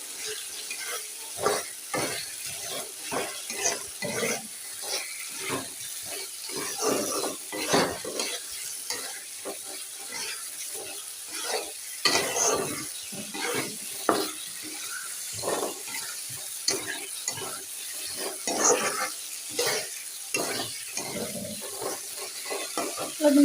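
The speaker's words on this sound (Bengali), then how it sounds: "আলুর দমটা সুন্দর করে কষিয়ে নিচ্ছি" Potato curry (aloo dum) with spices and coriander leaves stirred and fried in a pan, a steady close sizzle with repeated scraping spoon strokes throughout, no talk.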